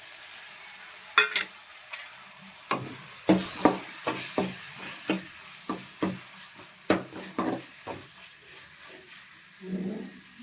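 Prawns added to a frying tomato masala for bottle gourd prawn gravy, a soft sizzle under a series of sharp spoon scrapes and taps against the pan at an irregular pace, close and fairly quiet, with no talking.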